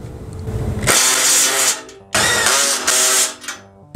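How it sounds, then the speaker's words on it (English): An electric power tool runs up in two loud bursts with a brief stop between them, driving M12 bolts tight on a Harbor Freight folding trailer during assembly. "Next we tighten up the M12 bolts."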